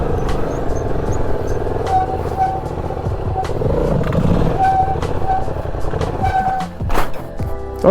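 A stunt motorcycle in second gear roars as it pulls away, the engine note rising and swelling among street noise, with a few sharp knocks and clatters near the end.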